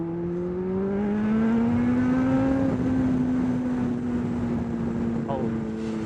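Kawasaki ZX-12R motorcycle on the road, a loud, steady engine drone that rises slowly in pitch as it accelerates, then holds while the bike rides on, with wind noise underneath and no talking.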